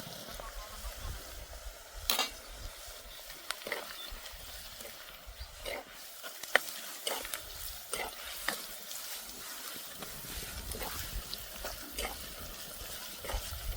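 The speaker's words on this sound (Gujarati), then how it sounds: "આપણે નાખી દઈશું આદુ મરચાં લસણની પેસ્ટ" Onions frying in a pan with ginger-garlic-chili paste give a steady, moderate sizzle with occasional sharp stirring clicks and scrapes throughout, fairly close and continuous.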